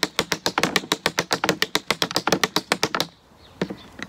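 Tap dance shoes beat out a fast, even run of sixteenth-note triplets, crisp close taps for about three seconds, followed by a couple of separate taps after a brief pause.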